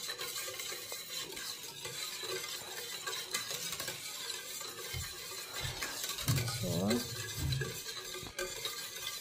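Coconut milk and maja blanca ingredients mixed together in a pot, a steady scraping stir with light clinks of a utensil, close and continuous, with a brief faint voice partway through.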